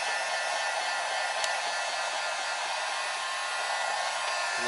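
A heat gun blows steadily while heating car wrap vinyl during a car part wrap, giving a loud, continuous airy roar close by with no break and no talking.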